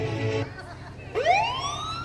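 An ambulance siren in a dramatized hospital emergency, its rising wail sweeping up clearly and fairly close after a brief stretch of other noise, with no talk over it.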